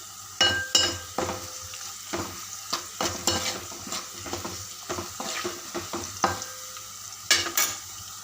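Onions sautéing in a pan, with a soft sizzle under repeated scraping and clinking strokes of a spoon stirring them at an irregular pace.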